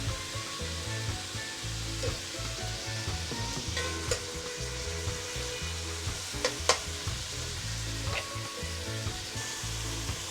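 Saltfish buljol with tomato and roucou coloring fries in a pot in a Paramin, Trinidad kitchen, a continuous loud sizzle with occasional scraping stirs and clicks, without any voices.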